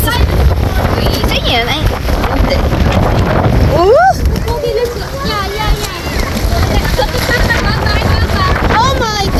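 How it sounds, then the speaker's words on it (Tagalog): Strong gusting wind roars and buffets the microphone continuously at a seaside diving resort in Batangas, with excited voices and exclamations shouting over it. "Ang lakas ng hangin!"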